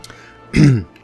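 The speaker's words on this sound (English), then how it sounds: "Bit of a cough going on there." A single short, rough throat clearing with a cough-like burst, close to the microphone, preceded and followed by near silence.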